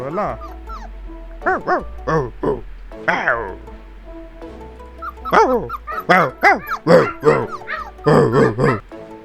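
Several dogs gathered together yip, whimper and bark in quick overlapping bursts, close and loud, with lively voices mixed in among the calls.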